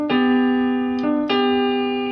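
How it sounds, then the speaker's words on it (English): Grand piano voice on a digital keyboard at its default setting, playing a few sustained notes, three distinct attacks each ringing out with steady bright harmonics, close and clear with no talk. "This is the sound of a grand piano"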